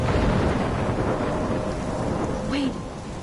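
Stormy weather in the video game Life Is Strange plays as a steady roar of rain and low rumbling thunder, loud and continuous, with a brief higher whistling sound near the end.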